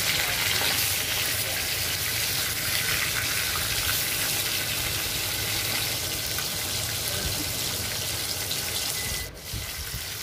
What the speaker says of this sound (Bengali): তেল গরম হয়ে যাওয়ার পর আমি মাছগুলো সুন্দর করে ভেজে নেবো